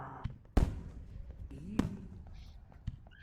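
Fireworks in the VRChat video game pop in sharp, scattered bursts, three distinct cracks spaced a second or so apart over low background murmur and soft voices.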